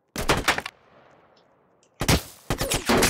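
Rapid gunfire from a video game war roleplay comes in a short loud burst, then a quiet stretch, then two more sustained bursts of shots close up, with no talking over it.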